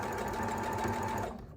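A sewing machine runs in one fast continuous burst as it stitches quilt fabric for a pinwheel block, close and steady before slowing to a stop at the end.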